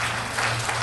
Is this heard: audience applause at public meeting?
yes